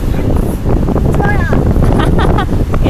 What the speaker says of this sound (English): Yeah, it's really windy, but it's nice and warm.